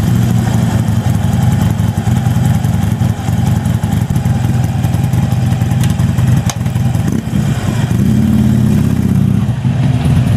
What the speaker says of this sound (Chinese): 听一下布尔的声浪